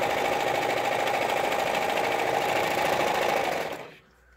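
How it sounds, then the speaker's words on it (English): A sewing machine stitching printed face mask fabric runs in a steady, close, rapid mechanical whir for several seconds, then stops abruptly near the end with no talking. "put the printed sides together. Okay, and you're going to sew that together"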